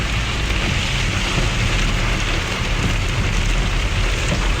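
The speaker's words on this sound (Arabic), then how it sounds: "وبعدها مطر." Steady heavy rain pouring down in Riyadh, a dense continuous hiss of drops striking surfaces, loud and close with no voices.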